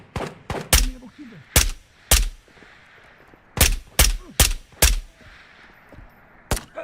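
Gunshots in the Ghosts of Tabor VR shooter ring out in sharp, loud single cracks and quick pairs spread irregularly across the span, with faint voice murmur beneath.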